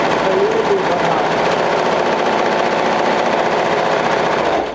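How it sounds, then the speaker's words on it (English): A sewing machine runs steadily while stitching a side seam on a flutter wrap garment, a loud continuous mechanical whir that stops abruptly at the end. "sew the seam, side seam with a 1/2 inch seam allowance"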